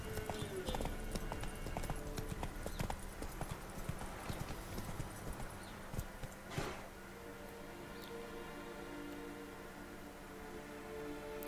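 Horse hooves clip-clop at a steady riding pace in the video game The Witcher 3, faint and continuous beneath quiet game ambience.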